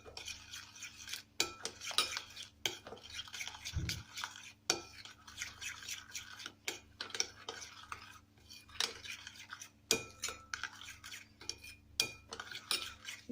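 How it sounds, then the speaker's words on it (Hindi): Spoon scraping and clinking in a bowl as chicken is mixed with vinegar, turmeric and black pepper in a marinade for steamed chicken, a steady run of close, scratchy strokes with brief pauses. "और अब हम इन सबको करेंगे मिक्स"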